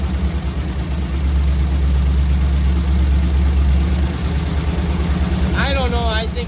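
Square-body Chevrolet C20 engine idling with worn, ticking lifters, a steady close low rumble with faint rapid ticking throughout; a brief voice-like chirp appears near the end.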